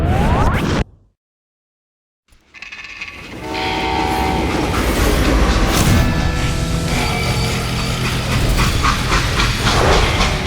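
A train in the video game Call of Juarez Gunslinger rumbles in loudly after a brief silence, its horn sounding over heavy rolling clatter and rushing wind that hold steady to the end.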